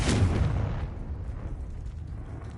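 A spell explosion from a Harry Potter video game, a single loud boom that bursts at once and then rolls away into a lingering low rumble.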